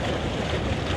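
A sailboat moving across open water, with a steady rush of wind and water washing past close by, loud and unbroken for a brief moment with no voices.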